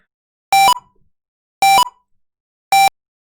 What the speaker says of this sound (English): we're getting some beeps here